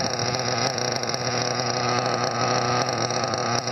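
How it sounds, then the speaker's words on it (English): A small RC model engine running rich during break-in drones loudly and steadily at close range, with a rough, buzzing tone that holds without revving up or down. "You can hear it's rich, but it's still running"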